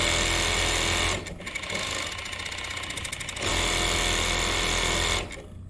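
A Yamato VC2700 industrial coverstitch sewing machine stitches fabric in loud, fast, steady runs. It pauses briefly, changes pitch mid-run and cuts off near the end, with no talking.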